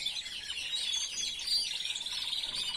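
A caged Valenciana songbird sings a continuous run of bright, clean chirps and trills at moderate volume with no voices, repeating its usual song.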